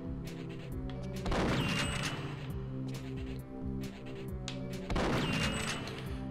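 Gunfire from the video game Perfect Dark in a timed shooting challenge, loud bursts of rapid shots layered over steady game music, with two dense volleys about four seconds apart.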